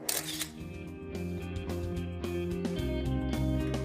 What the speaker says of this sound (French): je vais prendre un selfie avec lui